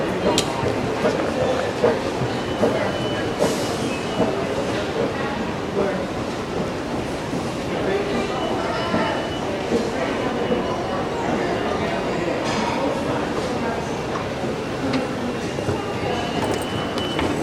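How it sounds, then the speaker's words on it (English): Subway trains arrive at the Times Square-42nd Street station in New York City. A loud, continuous rumble and clatter fills the platform with steady station din throughout. "Trains are arriving."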